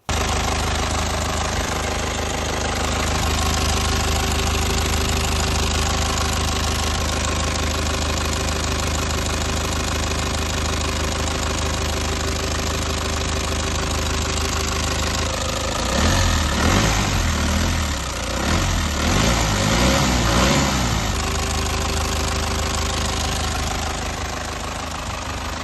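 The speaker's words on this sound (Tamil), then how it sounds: "இன்ஜின் ரூமை ஓப்பன் பண்ணி இன்ஜினோட நாய்ஸையும் லைவாக கேளுங்க" A Toyota Tavera diesel engine runs with the bay open, a loud close steady idle with a rhythmic knocking clatter that swells briefly midway, with no voices over it.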